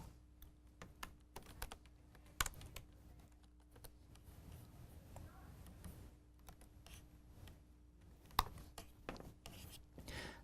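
Quiet, scattered keystrokes on a computer keyboard as code is written, irregular clicks with a few sharper taps over a faint steady hum, no speech.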